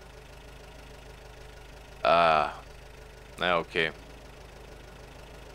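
An off-road truck engine idles in the MudRunner offroad simulator game, a low steady hum running throughout beneath a few short spoken words.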